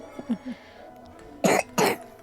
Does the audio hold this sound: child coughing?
yes